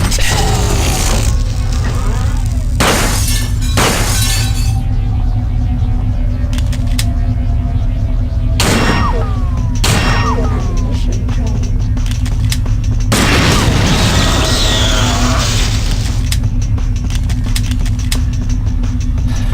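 Turrets being shot and destroyed in System Shock 2, with bursts of gunfire and sharp booming blasts over a constant loud mechanical hum, and a voice talking in between.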